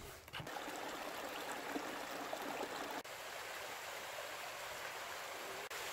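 Water flowing steadily at the Liard River hot springs, a soft, even, continuous rush and trickle heard from nearby, with a couple of faint clicks.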